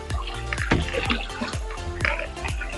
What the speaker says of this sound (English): I have to flush the water.